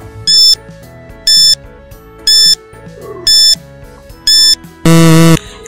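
A countdown timer alarm sounds as time runs out, with five evenly spaced loud electronic beeps followed by a longer, harsher buzz at the end, over a faint musical background.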